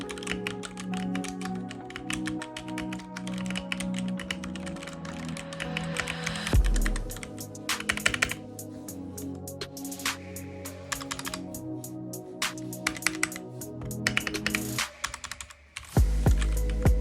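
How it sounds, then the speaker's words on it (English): Steady, rapid clacking on a Royal Kludge RK71 entry-level mechanical keyboard: dense, crisp key presses close up, with a few louder thocks from heavier keys and brief pauses, with no talking. "that's it for the lovely sound of this keyboard"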